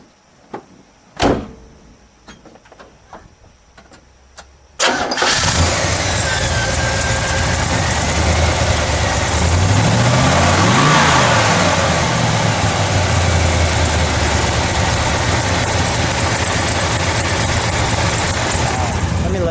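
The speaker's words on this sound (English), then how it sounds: "Let's fire this one up. Let's hear what this one sounds like." A door clunks shut, then the V8 of a 1969 Oldsmobile 442 W30 convertible cranks and roars to life close by, revs once, and settles into a loud, deep rumbling idle.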